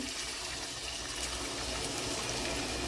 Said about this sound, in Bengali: যে শিলপাটার মধ্যে আমি আদা রসুনটাকে বেটেছিলাম ওইটা ধোয়া জল আমি এর মধ্যে দিয়ে দিলাম।